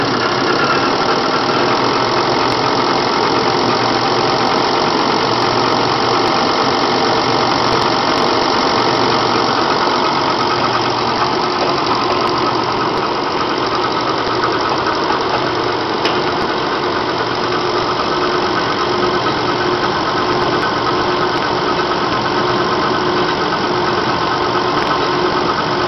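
A Bosch diesel injection pump runs steadily on a test bench at 700 pump RPM, equal to 1400 engine RPM, giving a loud, continuous mechanical drone with a faint knocking texture that holds unchanged for the whole stretch.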